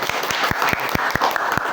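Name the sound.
applause from audience at pesantren gathering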